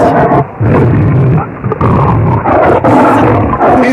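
A tiger roars in a series of deep, loud, rasping bursts close by, each separated by brief pauses.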